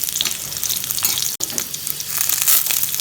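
Pan frying for raw banana curd chutney: a steady, close sizzle with bright crackling bursts and a moment of stirring, loud and continuous with no voices.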